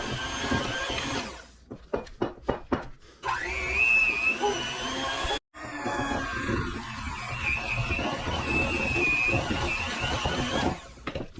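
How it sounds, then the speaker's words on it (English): An electric hand mixer beats room-temperature butter in a chilly kitchen: a few choppy motor bursts, then a steady, close, high-pitched whirring grind that cuts out briefly and restarts. "Also, my mixer really sucks."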